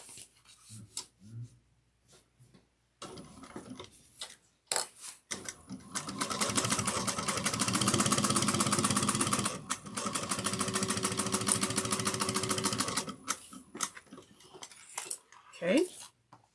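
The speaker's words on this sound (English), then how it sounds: "One-eighth of an inch top stitching" A sewing machine does one-eighth-inch topstitching on a sewing project in two long, steady, loud runs, with clicks and fabric handling before and after.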